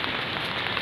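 Rain falls in a steady, dense hiss of close raindrops, with an even level and no other sounds over the brief stretch.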